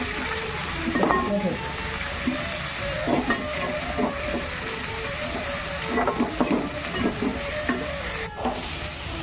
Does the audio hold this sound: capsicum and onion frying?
yes